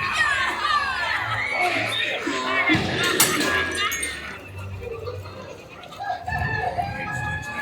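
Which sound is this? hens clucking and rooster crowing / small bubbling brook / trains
hens clucking and rooster crowing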